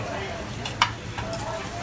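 An egg fries in a pan with a steady, close sizzle and a brief clink partway through. Faint talk sits under it.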